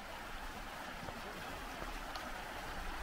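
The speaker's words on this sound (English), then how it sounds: "I'm going to show you the absolutely gorgeous river" A river runs over a shallow stone ford near Malmsmead in Lorna Doone country on Exmoor, giving a steady broadband wash of flowing water with no distinct events, heard close and moderately loud.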